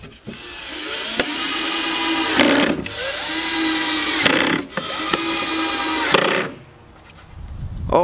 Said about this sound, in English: Now, let's screw the bottom in.